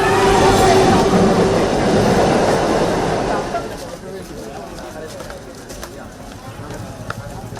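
An electric suburban train in Chennai runs loudly close by, a broad rumbling roar that fades after a few seconds into a lighter rolling clatter with scattered clicks of wheels on track.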